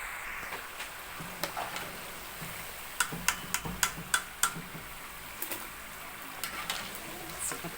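Almond and apricot briouats frying in hot oil, a quiet steady sizzle with a run of sharp crackling pops in the middle, heard close.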